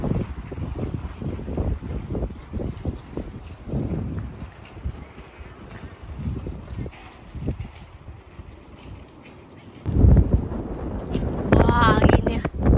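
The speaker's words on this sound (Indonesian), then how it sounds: "Wah, anginnya." Strong wind buffets the microphone outdoors in a Scandinavian town, with loud, gusty rumbling that surges and eases, swelling sharply near the end, heard under a person talking.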